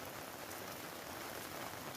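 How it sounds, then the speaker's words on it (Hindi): Steady rain falls in Almora district, Uttarakhand, a dense, even hiss of drops on surfaces that holds at the same level throughout, with no voices. "वर्तमान में जनपद अल्मोड़ा में बारिश हो रही है"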